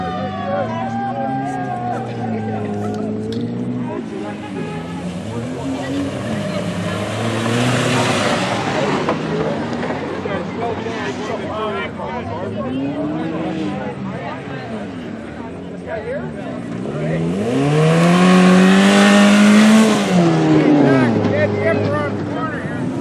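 Off-road race cars, among them a Volkswagen, roar through a river race heat, engines revving and whining up and down with a loud surge near the end, under steady excited talk from spectators.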